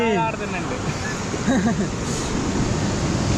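Waves wash and hiss across Butterfly Beach, Goa, in a continuous roar, while a voice briefly speaks over the surf near the start and middle.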